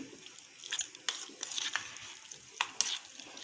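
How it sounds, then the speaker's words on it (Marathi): Raw mango chutney with red chilies being stirred after hot tempering oil is poured over it, a soft scraping stir with a few sharp clinks of the spoon against the bowl, close and fairly quiet. "आणि अशी मिक्स करून घ्यायची"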